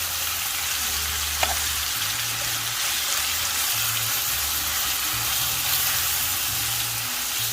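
Thin-sliced beef bulgogi frying in a pan, a constant close hiss of sizzling meat with a low rumbling hum beneath and a single faint clink.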